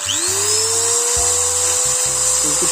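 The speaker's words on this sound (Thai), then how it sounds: "ทีนี้ก็มาลองตัว ตัวสว่านตัวนี้ได้อยู่แล้วนะครับ" An electric drill powered from an inverter spins up with a rising whine, then runs at a steady high-pitched hum, loud and close, with a low pulsing buzz cycling underneath.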